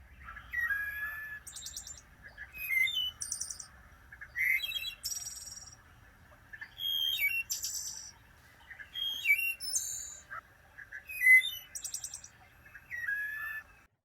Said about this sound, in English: hear that bird's haunting song in the woods here in Minnesota, especially in the evening